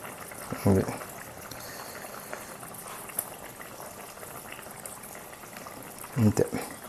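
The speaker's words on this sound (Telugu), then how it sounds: "బాగా మరుగుతుంది చూసారా." Brinjal and dried fish curry boiling in a pot, a faint continuous bubbling simmer, with two brief bursts of a voice speaking over it.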